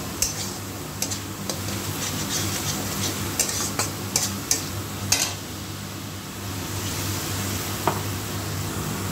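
A Bengali masala of mustard and poppy seed paste is stir-fried in a pan with a splash of water, with a continuous close hiss and quick metallic spatula clicks and scrapes against the pan.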